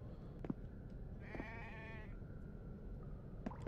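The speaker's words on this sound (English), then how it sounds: "Literally, is there really a sheep back here?" A sheep bleats once in a hardcore survival video game, a wavering nasal call of about a second, faint and distant over a low steady background rumble with a few soft knocks.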